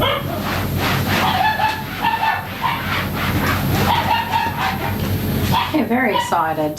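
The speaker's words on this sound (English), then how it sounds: "Sorry about the barking dogs." Several excited dogs bark and yip in bursts, close and loud, in a busy grooming salon, running throughout alongside people talking.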